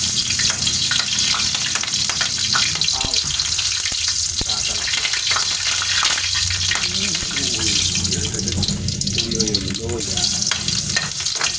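Garlic frying in a pan, a loud, continuous sizzle and crackle up close with occasional stirring clatter, holding steady throughout.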